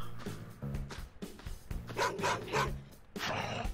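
A dog barks in the survival MMORPG Edengrad, several sharp barks in quick succession over busy game sounds.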